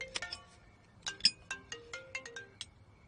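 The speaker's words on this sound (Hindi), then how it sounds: "मेरा फोन बज रहा है" A mobile phone ringtone plays alone, a bright electronic melody of short repeated tones in quick bursts, fairly close and clear over a faint background.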